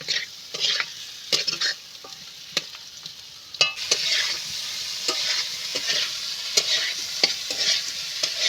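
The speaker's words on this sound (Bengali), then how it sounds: "আলুটা খুব সুন্দর মতো করে কষানো হয়ে গেছে" Potatoes sautéing in a frying pan with a steady sizzle of hot oil throughout, while a spatula scrapes and clicks against the pan at an irregular pace, close up.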